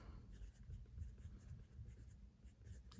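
A pencil writes in a teacher's planner, a very faint close scratching in short strokes over a quiet room with no talk.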